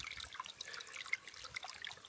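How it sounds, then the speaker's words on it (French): Water trickling from a small stream into a glass on a hot day outdoors, a soft, steady, faint burble with light splashy detail throughout and no talking. "Un petit ruisseau, je vais en profiter pour remplir mon verre"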